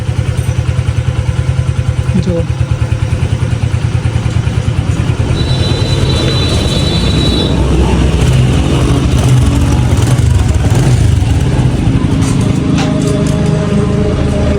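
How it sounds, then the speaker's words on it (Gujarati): A motorcycle engine runs close by, loud and steady with a fast throbbing idle, and a brief word is spoken over it. "આપણી બાઇકનું એન્જિન વધીને રેડી કરી છે ભાઈએ, જેથી બાઇક કમ્પ્લીટ સ્ટાર્ટ તો થઈ ગઈ છે."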